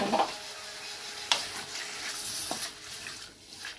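Boiled bottle gourd leaves are stirred in a pan, with soft scraping and a few sharp clinks of a utensil against the pan over low wet sizzling, close by.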